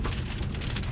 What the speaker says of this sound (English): the rain kind of chased me out